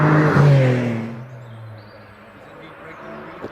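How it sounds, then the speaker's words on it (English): A Porsche 996 GT3 pulls away from the start line at a Prescott hillclimb, its engine note loud at first and then fading quickly into the distance, with a faint knock near the end. "Simon Tarling leaves the start line in the Porsche 996 GT3."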